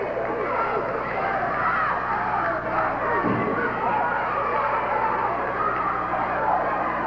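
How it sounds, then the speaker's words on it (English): Fired-up crowd at a wrestling match at Henderson Arena in Atlanta, a dense roar of cheering and shouting that stays loud and continuous from start to finish, with a commentator's voice over it. "I have never quite seen a crowd fired up the way they are here at Henderson Arena here in Atlanta"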